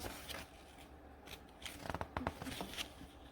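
Paper rustles and crinkles quietly as pages of a NESCO FD-41B food dehydrator user manual are flipped, a few soft crisp flicks close by.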